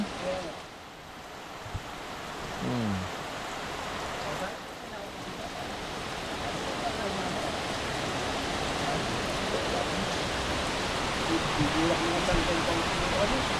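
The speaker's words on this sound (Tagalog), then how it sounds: "Ito yung mga ganitong ulan ng ano, mga ganyan ang nakakatakot eh" Heavy typhoon rain pours steadily on and around a hut, a dense, continuous hiss with gusting wind that swells slightly over time, while a voice talks intermittently beneath it.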